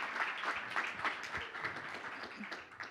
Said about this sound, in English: Big round of applause for Sandy Abrams.